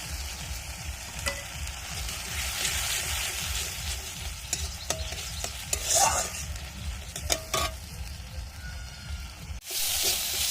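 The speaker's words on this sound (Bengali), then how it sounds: "এরকম মশলাটা আমি একদম ভালো করে কষিয়ে নিয়েছি" Spice masala sautéing in a pan for a home-style fish curry, with steady soft sizzling and scraping stirring strokes throughout, plus a few clinks of the spoon against the pan near the end.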